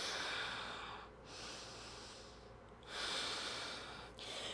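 Slow, deep breathing during a hip-opening yoga class, long airy inhales and exhales cycling in a calm rhythm, close and soft with no speech.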